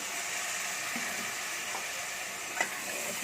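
Mutton trotters fry in a pan with ginger garlic paste, turmeric and browned onions, giving a steady close sizzle with a few soft stirring scrapes and no voices.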